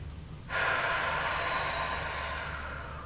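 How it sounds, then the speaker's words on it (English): A single deep breath during an at-home movement exercise, a soft noisy rush of air that starts abruptly and holds steady for a few seconds, close and quiet over low background hum. "Remember to take a nice big deep breaths."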